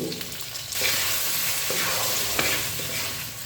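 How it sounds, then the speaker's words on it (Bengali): Tomato, green chilies and salt fry in a pan, giving a steady sizzle broken by repeated scraping stirs throughout, with no talking. "সব কিছু খুব ভালো করে মিশিয়ে নিয়ে মিনিট খানেক আবারও নাড়াচাড়া করে সব কিছু ভাজা ভাজা করে নিয়েছি"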